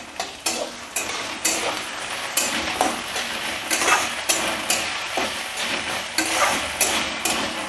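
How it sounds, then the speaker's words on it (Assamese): Onions and ginger-garlic paste fry in a pan, close by, under steady sizzling, with regular scraping strokes of a spoon against the metal. No voices. "এতিয়া আমি ইয়াতে আদা নহৰু পেষ্টটো দি দিম। দি আকৌ ভালদৰে অলপ ভাজি ল'ব লাগিব।"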